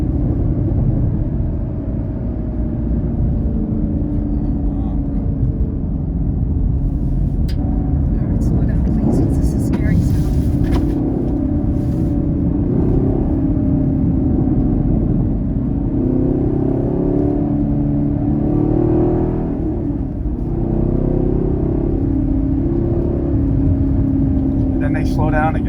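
A 2022 Chevrolet Camaro SS 1LE lapping the Daytona racetrack, its engine droning steadily with a continuous low rumble and shifting revs throughout, heard from inside the car while people talk over it.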